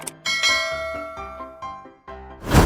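A notification bell sound effect rings out as a run of bright, layered chiming dings, loud and close, with no talking. It ends in a brief noisy burst.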